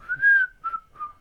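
A person whistles a short melodic phrase of three sustained notes, clear and close, with no talking.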